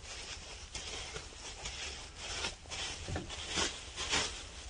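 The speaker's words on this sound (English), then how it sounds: "and you wrap some plastic" Plastic sheeting from hanging garments being wrapped around a bundle of clothes hangers, a steady close crinkling and rubbing rustle with repeated scraping pulls and no talk.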